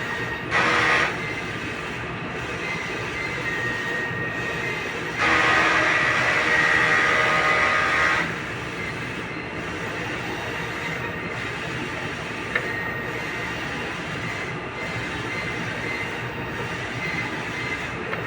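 A Smart 6 ft four-head sublimation printer runs a head-clean cycle with a steady mechanical whir and hiss. Louder bursts surge briefly near the start and again in the middle before it settles back to a constant drone.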